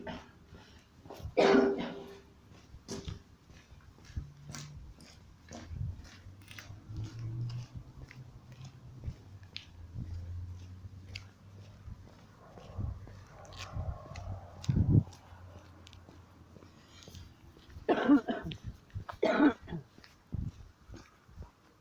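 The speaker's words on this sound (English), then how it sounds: "Excuse my cough" A person coughs in short bursts, loud and close, with a few separate coughing fits spread over a quiet stretch that carries a low background hum.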